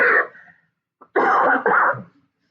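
Three harsh, close-up coughs: one short burst, a brief pause, then two quick rasping coughs in a row.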